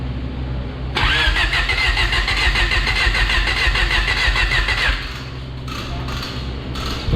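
A car called Lila catches after a brief crank, then runs with a loud, close, choppy idle for several seconds before dropping to a quieter, rougher running sound.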